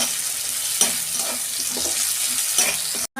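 Eggplant pieces frying in hot oil for a bhola fish curry, a close, continuous hiss and crackle with a few stirring clunks, cutting off abruptly at the end.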